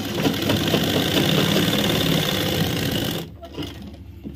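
Sewing machine running steadily as it stitches underwear fabric in a tailoring boutique, a loud, close, continuous mechanical whirr lasting about three seconds before stopping abruptly, followed by faint handling sounds.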